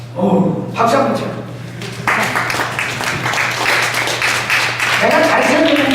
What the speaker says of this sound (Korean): 박수 한번 쳐.